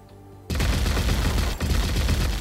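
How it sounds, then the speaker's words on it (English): Gunfire effect in the video game Halfway: after a brief quiet start, a loud sustained volley of rapid shots begins abruptly and keeps going with one short dip, no voices. "That is a pretty cool gun effect."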